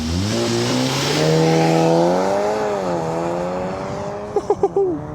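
A VW T-Roc R launches hard from a standing start on a race track, its engine climbing loudly through rising revs with a gear change midway, followed by a few quick sharp bursts near the end.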